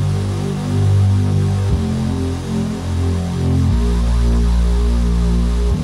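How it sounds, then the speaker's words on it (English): A deep, sustained bass line from a produced beat, with low tones that shift pitch in long held steps, loud and alone with no voices. "And here's the bass."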